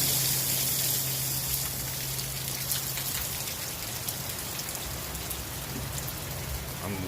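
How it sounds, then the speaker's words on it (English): Steady rain pours down on a Saturday afternoon at an RV park near Savannah, Georgia: a dense, even hiss of drops hitting surfaces, close and constant, with no talking. "It is Saturday afternoon and it's raining."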